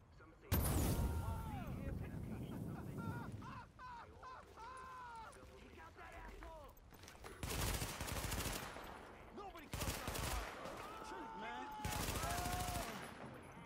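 Automated sentry turret from a deployed sentry grenade firing in The Division, loud rattling bursts of gunfire repeated in several volleys with pauses between, mixed with game sounds and a voice talking.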